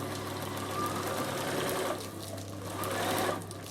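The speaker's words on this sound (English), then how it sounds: "I go forward and reverse there and then sew down the last seam." A Bernina sewing machine stitches forward and then in reverse while sewing a lunch cooler bag, a steady close mechanical whir with a brief change in pitch midway, no voice.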